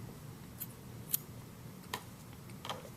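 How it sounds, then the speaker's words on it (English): Scissors snip through pink yarn during a crochet sock monkey beanie project, giving a few faint, sharp clicks spaced about a second apart over a quiet low hum. "Now at this point I'm going to cut off the pink yarn"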